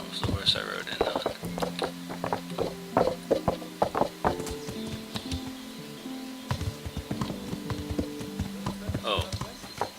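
Horse hooves clip-clop in an irregular walking rhythm in Kingdom Come: Deliverance, moderately close, with music and game sounds underneath.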